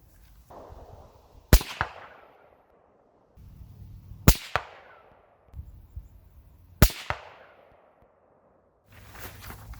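Three sharp rifle shots at a target 200 yards away, each a loud crack trailing into a long echo, spaced a few seconds apart over quiet outdoor background.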